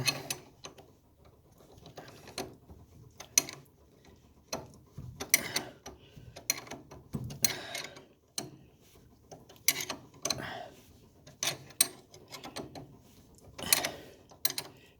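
Ratcheting wrench tightening steering shaft bolts on a G-body car, bursts of quick, close clicking ratchet strokes separated by short pauses, fairly faint with light metallic handling noises between.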